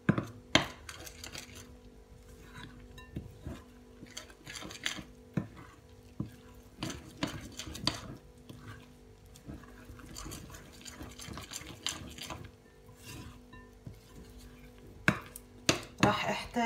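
Butter being stirred into soft brioche dough in a bowl, with repeated soft scraping and clinking knocks of the utensil against the bowl, fairly quiet and near.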